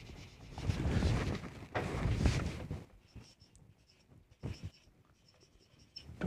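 Large numbers are written on a board during an accountancy lesson, with a few bursts of scratchy marker or chalk strokes close by, separated by short quiet gaps and faint taps.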